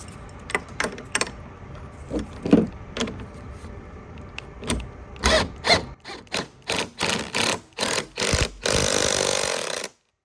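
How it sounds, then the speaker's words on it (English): An adjustable wrench works an 18 mm nut on Recaro seat rails in a 1991–2005 Honda NSX, with a series of sharp metallic clicks and ratcheting bursts, then a sustained grinding rasp near the end. "I'm just gonna have to use an adjustable wrench"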